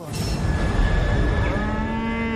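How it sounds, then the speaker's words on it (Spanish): Cows mooing as a radio drama sound effect in a misty countryside meadow scene: a loud, close, drawn-out low moo that swells and fades, with another bovine call layered beneath. "El 18 de octubre de 1563, mientras Ann Milner cuidaba las vacas de su familia, un demonio acechaba en el campo."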